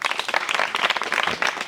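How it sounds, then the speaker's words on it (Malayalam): A brief, lively burst of group clapping rewards a participant, close and energetic, lasting under two seconds. "ശ്രീരാഗ് നല്ലൊരു കൈയടി കൊടുത്തു"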